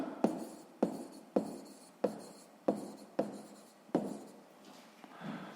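A pen or chalk writes out a Grade 6 math exercise solution on the area of a square, making a close, quiet run of tapping strokes about every half second, each followed by a short scratchy trail.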